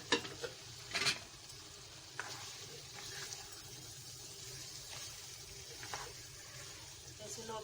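Bottle gourd pieces go into a pan of softened tomatoes with a soft sizzle and clattering stir, a few sharp clanks early on, then quieter scraping and bubbling under faint talk.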